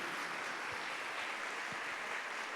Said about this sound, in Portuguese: Vamos dar um grande salve de palmas a Nossa Senhora, Mãe de Deus e Nossa Mãe.